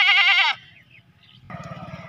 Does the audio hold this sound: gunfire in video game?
no